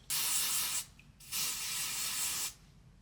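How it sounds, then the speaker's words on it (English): Two close hissing bursts of a lace bond wig adhesive hair spray, the second longer, separated by a brief pause. "I'm going to use the Red by Kiss Styler Fixer Lace Bond Spray"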